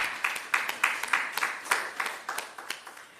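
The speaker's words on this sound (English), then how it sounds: "So let us give a round of applause for that." Scattered applause from an audience at a national health research conference: a handful of distinct hand claps at uneven intervals, fairly close and moderately loud, with no speech.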